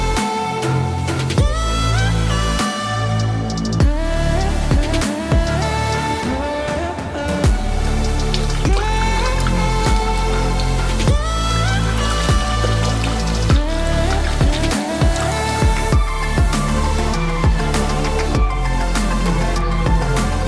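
Coolant pours through a funnel into a Mishimoto X-Line radiator on a Subaru WRX STI. A loud, close, steady splashing trickle runs the whole time, with dripping patter and no speech.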